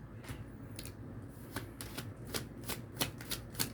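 Tarot cards are shuffled in a quick series of crisp, papery riffle bursts, close and soft, falling into an uneven rhythm with no voices.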